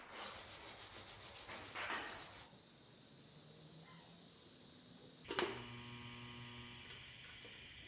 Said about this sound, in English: I'm kind of rounding over the edges here with a file and then sandpaper